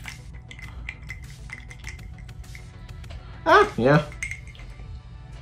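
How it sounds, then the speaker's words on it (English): A doll dipped into water, giving a couple of short splashy sloshes and clinks close by near the end, preceded by quiet handling sounds. "I'm just gonna dip her in the water."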